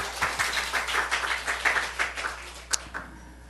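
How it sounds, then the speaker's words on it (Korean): A church congregation applauds together during a Korean morning worship service, a steady patter of many hands clapping at moderate volume for a few seconds before tapering off. "우리 하나님께 박수 올려드려요."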